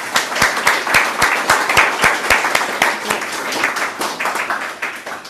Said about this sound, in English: can we have another round of applause for all our wonderful writers?